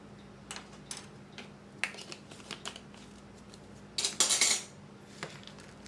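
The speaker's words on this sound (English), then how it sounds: "just kind of mix all that up to get it incorporated real good" Cornbread dressing ingredients being mixed in a bowl, with quiet intermittent scraping and clinking of a utensil and one louder burst of rattling near the end, close but soft, with no talking.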